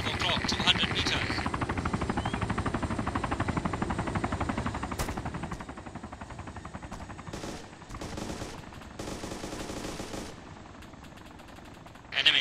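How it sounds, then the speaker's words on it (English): A helicopter in the video game Arma 2 thrums steadily under bursts of gunfire, with a continuous rotor drone and crackling shots and radio-style voice callouts. "Enemy chopper, right, one click."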